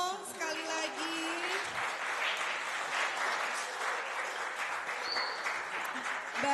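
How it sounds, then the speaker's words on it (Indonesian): Applause from students at a university public lecture, a moderate steady clapping over a hall, with a voice speaking over it briefly at the start. "tepuk tangannya dong sekali lagi"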